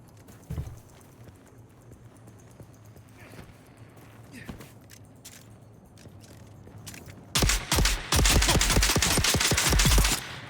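Rapid bursts of player weapon gunfire in the survival shooter Dune: Awakening, loud and close, arriving in the final seconds after a quieter stretch of ambient game sound.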